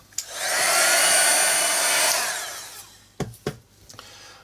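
A hair dryer blows steadily for about two seconds to dry paint on an art tag, then fades out, followed by a few sharp knocks and handling clicks nearby.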